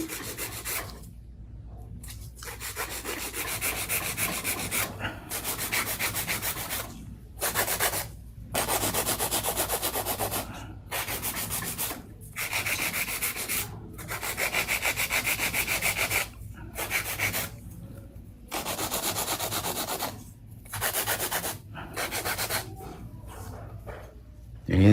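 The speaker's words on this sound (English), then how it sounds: "I'm gonna do a little bit of hand filing before I do my cuticle work and top coat" Long coffin-shaped acrylic nails being hand-filed with a nail file, giving repeated scratchy rasping strokes in short bursts with brief pauses between them, close and steady.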